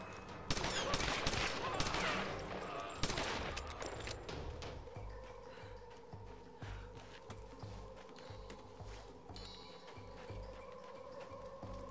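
Rapid bursts of gunfire sound in the Tomb Raider 2013 video game, a dense crackling fusillade during the first few seconds that gives way to a quieter low hum.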